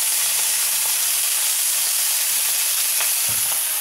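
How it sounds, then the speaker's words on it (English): Onions sizzle in a hot fry pan, a loud, steady broadband hiss of frying that fills the whole stretch, with a brief low thump near the end and no voices. "we're going to take the onions and put them in the fry pan"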